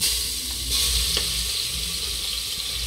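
A ground paste of mint, coriander, chilli and garlic fries in a little hot oil, giving a steady close sizzle with a soft clink and stir scrapes early on.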